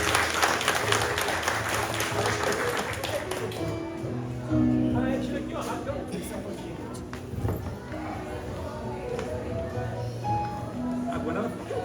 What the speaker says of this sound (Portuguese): nossa salva de palmas